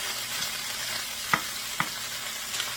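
Pineapple chicken frying in a pan gives off a steady, even sizzle, with a few soft clicks and pops of stirring over it and no voices.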